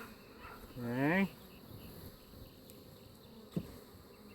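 Honey bees buzz in an open top-bar hive, a steady faint hum with a louder, closer buzzing swell near the start as a bee passes, and someone briefly speaks.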